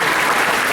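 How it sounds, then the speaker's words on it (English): Students and guests at a school FFA gathering clap loudly and densely, a brief, close burst of applause with no voices over it. "Can you give yourself a hand clap?"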